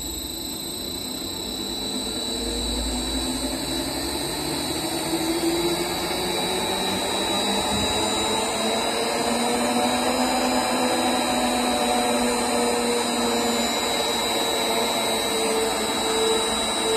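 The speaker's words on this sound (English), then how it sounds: "first we test the mixing function of the mixer. Release the emergency stop button and start the motor." The motor of a 500L horizontal ribbon blender runs during a mixing test, a steady whirring hum with a faint high whine that builds slightly and holds.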